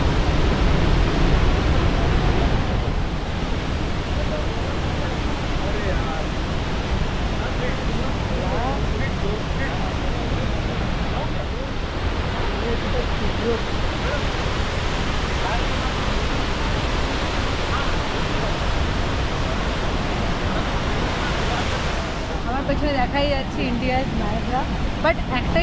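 Chitrakote waterfall in the monsoon, swollen with muddy water and a strong current, gives a steady, loud roar of rushing water that fills the whole scene, with a voice speaking over it.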